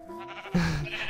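A brown sheep in the Minecraft video game gives a couple of close, nasal bleats that stand alone without talk.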